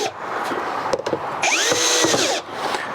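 Power drill driving a screw to fix down a bar on a Keter Denali 150 plastic garden storage box, with a close, loud whirring spin that rises in pitch midway before the motor stops.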